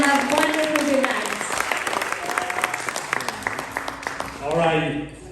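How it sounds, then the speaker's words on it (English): Audience applause at an Everest Day declaration event hosted by an Assembly Woman, steady dense clapping from a crowd, with speech-like tones running through it and a brief swell near the end. "let's give a big round of applause to our MC, Miss Garima Gewali"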